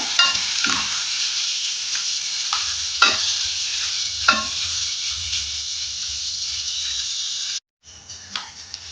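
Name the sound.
onions frying in a pan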